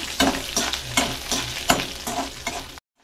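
Chana dal, urad dal and dried red chilies fry in hot oil, sizzling close up while a spoon stirs them in rhythmic scrapes. The sound cuts off sharply at the end.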